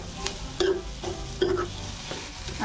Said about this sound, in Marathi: त्याच्यानंतर मी लगेच हे करटुले टाकून देणार आहे, म्हणजे मिरची जळणार नाही।